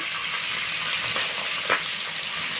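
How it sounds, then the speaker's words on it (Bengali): Hilsa fish fries in mustard oil over a clay village stove, a loud, steady close sizzle with a couple of faint scrapes from stirring. "ইলিশ মাছটাকে সরষের তেলে দিয়ে যাচ্ছে একটু"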